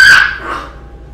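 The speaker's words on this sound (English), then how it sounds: "That was my dog." A dog gives a single sharp, loud bark close by indoors, followed by a short fading yelp-like tail.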